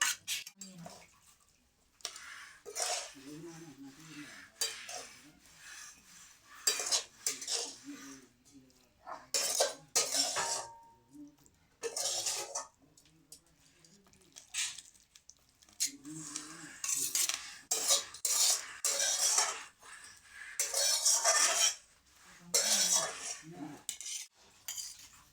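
Pots and metal utensils clank and scrape on a kitchen stove as a pan of cooked cabbage ghonto is taken off the heat, with bursts of clinking and shuffling separated by quiet gaps, close and moderately loud.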